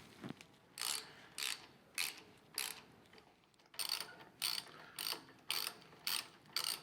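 A ratchet tightens the handlebar bolts on an Indian Chieftain motorcycle, giving about a dozen short bursts of fast clicking, evenly spaced and close, with quiet gaps between strokes.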